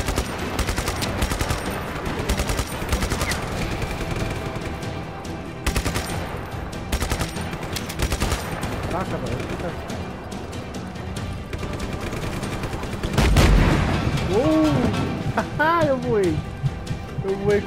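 Rapid bursts of laser weapon fire in Just Cause 3 crackle in fast, repeated volleys, loud and dense, with explosions and warbling electronic tones later on; someone speaks over the action at times.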